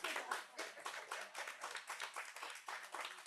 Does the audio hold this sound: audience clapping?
yes